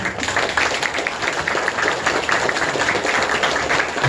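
Steady, dense audience applause at an indoor memorial ceremony as guests are welcomed, a continuous wash of many hands clapping at fairly even loudness with no break.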